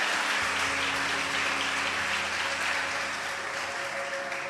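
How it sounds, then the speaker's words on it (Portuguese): Congregation standing in a church gives sustained, dense applause, loud and steady throughout with no voices over it. "Vamos ficar de pé dando um aplauso ao Senhor."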